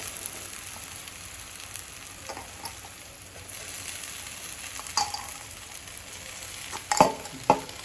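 Spatula stirring poha ingredients as they fry in a pan, soft continuous sizzle with scraping strokes that grow sharper and louder toward the end, no talk over it.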